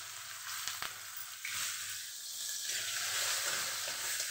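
Bay leaf, onion and garlic frying in hot oil in a home kitchen pot, a few clatters at first, then a steady close sizzle that swells louder as the ingredients hit the oil.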